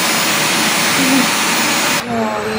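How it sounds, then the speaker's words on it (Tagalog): A household vacuum cleaner runs loudly and steadily indoors in a home, with a brief dip in the motor noise near the end. "Siya daw magba-vacuum."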